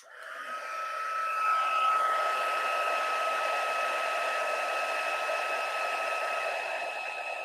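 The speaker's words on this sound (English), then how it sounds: "One more time to heat this up." Steady whirring blow of a heat tool melting embossing powder on a card, rising in over the first second then holding an even, close hum with a faint whine throughout.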